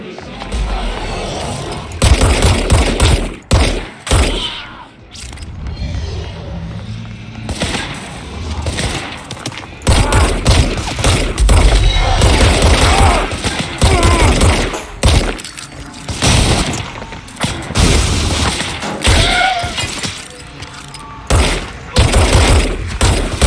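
Repeated loud bursts of automatic weapon fire from the video game Control, heavy rattling volleys with brief pauses between them and little talk over the top.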